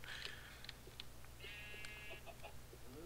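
Sheep bleat a few times in Minecraft, short nasal calls over a steady low game background hum, fairly faint.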